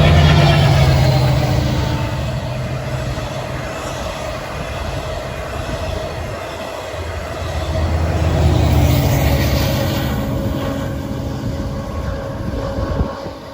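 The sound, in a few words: Long Island Rail Road eastbound train passing Hollis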